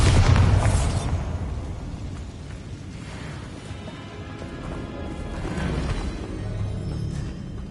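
Spell explosions and magical blasts from Hogwarts Legacy, a heavy boom at the start settling into a dense rumbling, crackling bed with smaller bursts and a renewed swell near the end, no talking.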